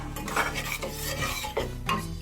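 Paneer tipped into a kadhai for restaurant-style matar paneer, heard as a close scrape and clatter of a spoon against the pan over a soft sizzle, with a few metallic knocks and no talking.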